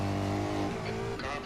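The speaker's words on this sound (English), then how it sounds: "Car approaching." A GT4 race car approaches in iRacing at Spa, its engine a loud continuous drone with stacked harmonics that shift as it nears, with faint tyre or skid noise late in the clip.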